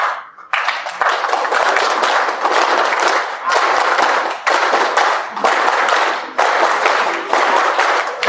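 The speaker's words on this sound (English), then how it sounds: "Let's do kind of a clapping thing." A conference audience claps for a talk on securing NodeJS APIs, loud sustained applause from many hands in several swelling waves, with brief dips between bursts and no speech.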